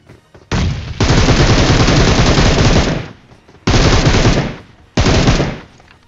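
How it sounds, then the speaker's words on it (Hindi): Bursts of automatic gunfire in the BGMI battle royale game, three long loud rattling volleys close by with brief gaps between them, no talking. "मेरे को लेफ्ट से फायरिंग मतलब फुटस्टेप आने चालू हो गए"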